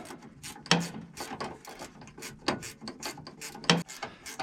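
A ratchet wrench clicks rapidly in repeated strokes while a bolt is tightened on a Massey 8570 combine, close and steady with a few heavier clunks between bursts.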